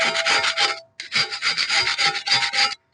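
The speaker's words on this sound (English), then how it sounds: "the easiest way is use one of these ordinary household scraper" A household scraper stripping old paint and crud off a boat rudder, brisk rasping strokes in quick repeated bursts with one short pause, loud and close with no voices.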